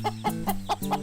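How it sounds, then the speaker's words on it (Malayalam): Cartoon chickens cluck in a Malayalam animated children's story about a fox and hens, giving about five short, evenly spaced clucks over a steady tonal background. "ഇവിടെ ഒരുപാട് കോഴികളുണ്ടെന്ന് തോന്നുന്നു"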